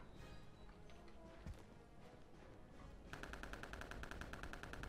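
A Thompson submachine gun fires in Return to Castle Wolfenstein, a rapid, steady, loud stream of rounds that starts partway through and continues to the end over a busy, noisy game background.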